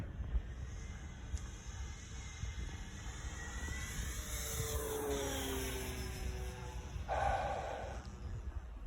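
Model airplane engine running at full throttle on a fast pass, a steady loud drone with rising and falling pitch sweeps as the aircraft passes and turns.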